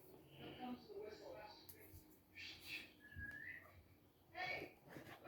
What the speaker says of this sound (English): Here comes the whistle.